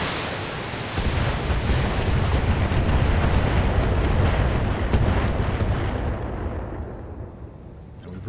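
Heavy weapons fire in the mech combat video game BattleTech, a loud, dense rumbling barrage of booms and blasts that runs for several seconds before thinning and fading out.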